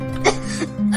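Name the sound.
woman coughing while sick in bed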